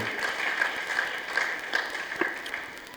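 A church congregation applauds together during a worship service, a steady wash of clapping with scattered sharper claps throughout, fairly distant and moderately loud, no one speaking over it.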